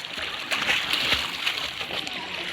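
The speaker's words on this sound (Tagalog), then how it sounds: "Ito yung sa lubong ng dalawang ilog. Agno River at Sabangan River." Rushing river water churns and splashes steadily at the confluence of the Agno and Sabangan rivers, a close, continuous broadband roar with brief louder splashes.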